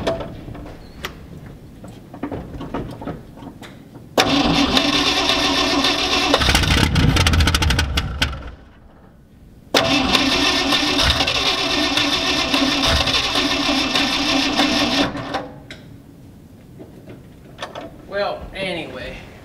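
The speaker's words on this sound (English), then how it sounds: "let's put you down here so you can listen to the engine" A 1969 Ford F-250 with a carbureted engine and no muffler runs in loud, raw bursts, roaring for several seconds, cutting out briefly, then roaring again before dropping back to quieter background noise with talk.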